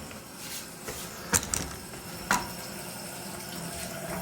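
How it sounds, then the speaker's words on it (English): Toilet cistern tank refilling during a DIY toilet replacement, a soft continuous trickle of water with a couple of sharp knocks or clunks partway through, no talking. "Tank is filling, so we got to watch this tank, make sure it fills to the right level"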